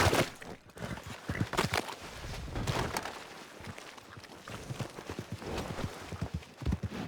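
Horse hooves clip-clop in Red Dead Redemption 2, a brisk run of uneven thuds over rustling background noise, fairly close and moderately loud.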